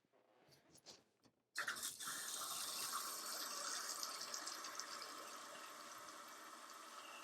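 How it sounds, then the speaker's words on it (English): Hot water gushing from a tap into a bucket, a few faint drips first, then a sudden strong steady pour filling the container, close and continuous. "So we'll get some hot water running."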